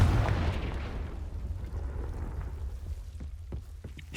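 A Confringo blasting spell goes off in Hogwarts Legacy, a loud rumbling fiery burst that trails into a crackling, debris-like rush, with a few sharp pops near the end.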